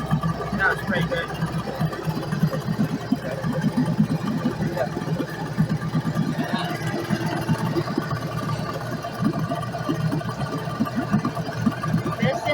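A Yamaha 8HP two-stroke outboard engine for a catamaran dinghy runs steadily at a rough, buzzing idle for over twelve seconds, with people talking over it.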